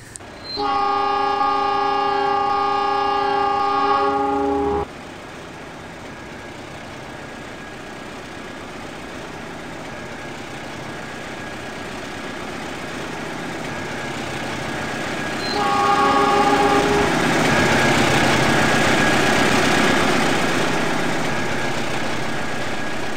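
A train passes a railway crossing worked by mechanical Siemens & Halske signals. A loud horn blast opens, a steady rumble of the passing train follows, and a second, shorter horn sounds further off near the end.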